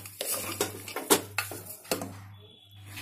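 A spoon clinks and scrapes repeatedly against a pot while zarda sweet rice with dry fruits is mixed, about half a dozen sharp metallic taps over a low steady hum, close and fairly quiet.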